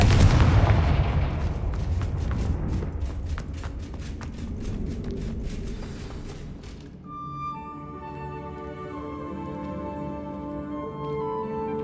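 Repeated fire-spell blasts in the video game Hogwarts Legacy, a loud run of sharp booming bursts with crackle that gives way to a ringing, sustained musical tail.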